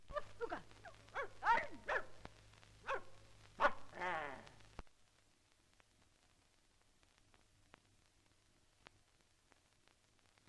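A dog in a 1937 film yelps and barks in a quick series of sharp, close calls over an old soundtrack hum, followed by near silence with faint clicks.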